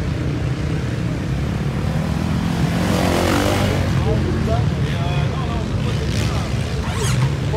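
A racing motorcycle engine drones continuously on a sand track at a French endurance race, loud and steady with slight revving swells, while voices speak over it.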